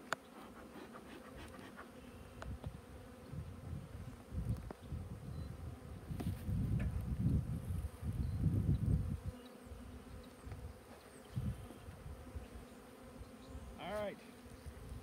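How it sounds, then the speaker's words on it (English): Honeybees hum at an open beehive in a low, continuous buzz that swells and fades as individual insects pass close, with no clear talk over it. "So these bees will be able to empty that box of honey in about a day."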